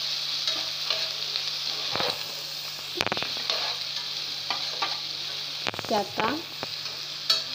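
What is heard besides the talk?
onion frying in pan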